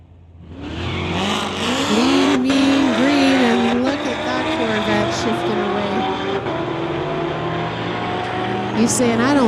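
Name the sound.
drag race: 2016 Corvette against a 1972 Nova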